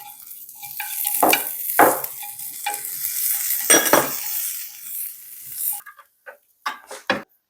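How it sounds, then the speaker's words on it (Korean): Food sizzling in a hot pan while a utensil stirs and scrapes against it, ending with a few metallic clinks. "고명으로 쓸 거니까 한번 볶아볼게."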